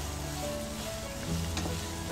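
Chopped onions hitting hot oil for a mutton curry, giving a steady close sizzle of frying that runs without a break, with faint stirring.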